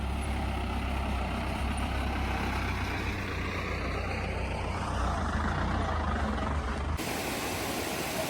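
A tourist jeep arrives on a track near Kanthalloor's Kachar waterfall: a low, continuous engine rumble runs steadily, then cuts off abruptly just before the end.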